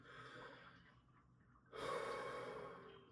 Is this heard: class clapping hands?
no